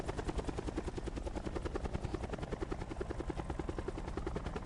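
Helicopter in the video game Call of Duty Blackout, its rotor thumping in a steady fast rhythm with a constant engine whine, loud and close throughout with no talk.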